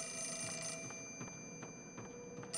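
Telephone ringing inside the Project Zero 4 horror game, a faint repeating electronic ring over steady game ambience and hum, with a few soft pulses and no voices.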